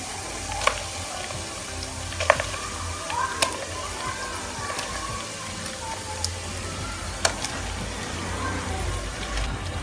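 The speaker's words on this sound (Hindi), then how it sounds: "अदरक लहसुन फ्राई कर लिया हमने, अब हम इसमें चिकन डाल देंगे।" Chicken sizzles in a pan with ginger and garlic, a steady crackling hiss broken by sharp pops, close and moderately loud, with a voice talking at times.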